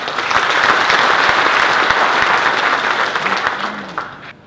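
Loud, full applause from a large audience at a formal address, a thick continuous clatter of hands that thins and fades away near the end.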